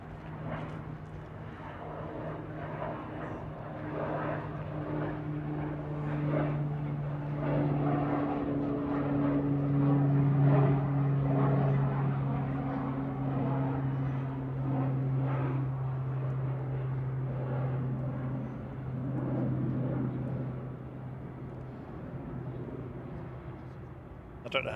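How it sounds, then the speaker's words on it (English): Jet airliner on its takeoff roll at Manchester Airport, a sustained distant engine roar with a droning hum that swells and fades over about twenty-five seconds, with someone speaking intermittently over it. "Jets on the roll."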